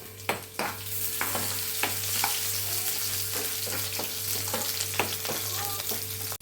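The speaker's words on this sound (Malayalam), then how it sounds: "കരിയാപ്പില ഇട്ടു." Curry leaves crackle and sizzle in hot oil while making a Kerala ash gourd buttermilk curry (moru curry), a dense continuous fry with scattered sharp pops and light clinks of stirring, no voices.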